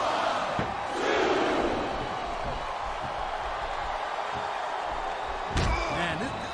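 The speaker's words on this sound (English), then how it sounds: "This capacity crowd is making their opinions known tonight." Wrestling arena crowd from the video game WWE SmackDown vs Raw 2007 roars steadily throughout, with loud swells and a few sharp slams, under continuous play-by-play commentary.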